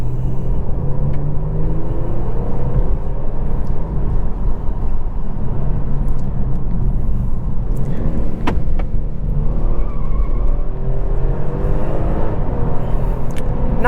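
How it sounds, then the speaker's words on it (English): A 2022 Genesis G70 3.3T AWD in Sport Plus mode pulls through a handling test, its engine a loud, steady low drone from inside the cabin, with gear-like tone shifts and a brief bump near the middle. "time for a quick handling test. I've got the car in Sport Plus mode."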